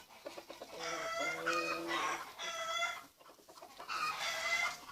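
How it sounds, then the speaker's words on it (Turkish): Backyard chickens and a rooster clucking and calling loudly nearby in bursts of harsh, drawn-out cries, with brief gaps between the outbursts and no talk. "Əmimci xoruz toyuqlar yenə başladı qışqırışmağa."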